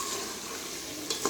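Spice masala being roasted in a pan for chicken korma, a dense, continuous close sizzle with a couple of light scraping stirs near the end, no voices.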